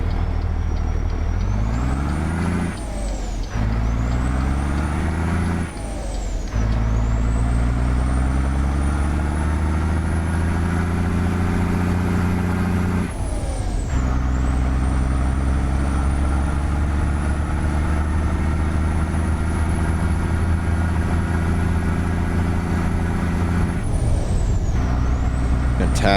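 A Scot A2HD truck in American Truck Simulator, its engine droning loud and close as it revs through gear shifts, with several sharp air brake hisses breaking the steady roar.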